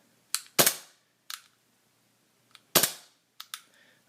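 Maruzen P99c gas blowback airsoft pistol cycling its slide, sharp snapping cracks with metallic clacks and small clicks, a few shots spaced apart, close and alone.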